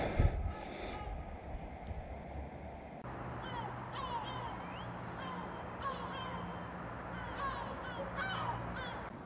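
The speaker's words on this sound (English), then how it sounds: "Yeah, seagulls are strong birds." Seagulls call repeatedly in the distance over a noisy outdoor background, their brief harsh cries scattered across the clip, faint to moderate and mostly without talk.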